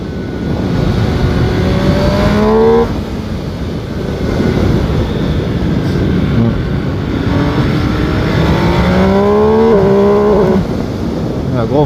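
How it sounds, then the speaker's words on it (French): A 2021 MV Agusta Brutale 800 RR motorcycle's engine winds down sharply under hard braking, loud and close with wind noise, its pitch sliding down in steps before rising again. "Un gros freinage."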